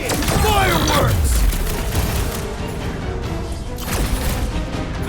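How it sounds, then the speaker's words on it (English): Fireworks explode in the Guardians of the Galaxy video game as a burst of loud booms and crackling blasts with whistling streaks, set against ongoing game action. "Rocket! Fireworks!"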